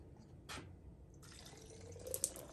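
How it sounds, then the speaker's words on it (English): Water is trickled into a nearly empty bottle of hobby model paint, a soft quiet pour with a sharp splash early on and small drips and gurgles toward the end. "Just keep adding water to it and shaking it."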